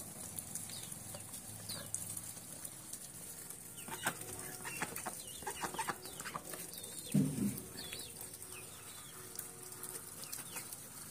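Young chickens gather around food near feeding ducks, giving soft scattered clucks and cheeps with a few light wing flaps, quiet and close with no talking.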